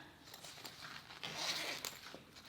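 Zipper on a mesh stationery pouch being pulled, several short quick rasping zips with brief pauses between, close and fairly soft.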